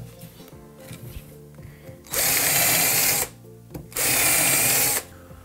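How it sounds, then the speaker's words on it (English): A power drill bores pilot clearance holes through pallet wood in two loud, steady bursts of about a second each, close by, with quiet workshop handling noises in between. "I'm going to drill all the clearance holes with the pilot drill bit."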